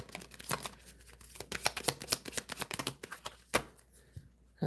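A deck of love shadow tarot cards is handled and shuffled up close, a quick run of crisp flicking and riffling clicks in an irregular rhythm with no voice.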